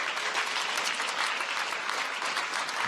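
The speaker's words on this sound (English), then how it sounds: "Give a round of applause for Mindtrack for being part of this." Dense, steady audience applause fills a startup competition event hall, a loud wash of many hands clapping at once with no gaps throughout.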